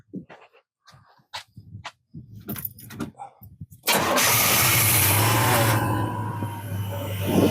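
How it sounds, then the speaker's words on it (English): A 1990 Chevy C1500 pickup truck's engine cranks and then fires up, settling into a loud, steady idle close by, after a few seconds of scattered clicks and handling noises. "Go crank her back over for me."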